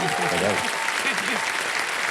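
Dense, steady applause from a studio audience on the KBC Season 15 quiz show set, sustained and loud throughout, with a host's voice faintly mixed in.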